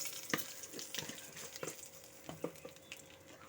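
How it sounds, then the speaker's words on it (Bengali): Black cumin seeds and two dried red chillies are dropped into hot leftover oil as a tempering, giving a faint sizzle with sharp pops and crackles at irregular intervals, close by. "দিয়ে দিচ্ছি কালো জিরে ফোড়ন, দিচ্ছি 2টো শুকনো লঙ্কা ফোড়ন"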